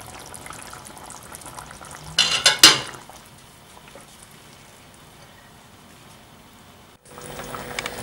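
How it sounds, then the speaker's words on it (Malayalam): Sardine curry simmers in a covered pan, a quiet bubbling hiss, broken by a short burst of clinking lid or pan clatter and a brief cut near the end. "ഇനി ഇത് അടച്ച് വെച്ചിട്ട് ഒരു 10 മിനിറ്റ് ഞാൻ ഈ കറി തിളപ്പിക്കാൻ പോവാണ്"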